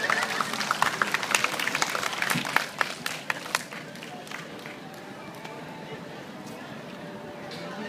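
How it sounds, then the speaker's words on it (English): Audience applause after an AED demonstration at a walk-to-save-a-life event, scattered clapping strongest over the first few seconds, then thinning into a quieter steady patter with room murmur and voices underneath. "Give us a round of applause."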